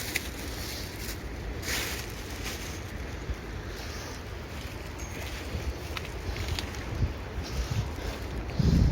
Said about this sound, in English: although it's quite windy and wet